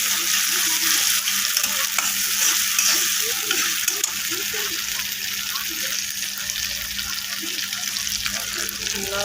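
Spice masala with chopped tomato frying in a pan, a steady loud sizzle with stirring scrapes, a faint hum beneath and a background voice.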